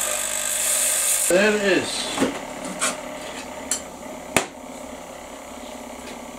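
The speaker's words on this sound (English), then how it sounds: "So I'm just taking the rougher edges off." A hand tool scrapes and files the rough edges off a piece of metal, in a handful of separate short rasping strokes and clicks, close up, with a brief spoken remark between them.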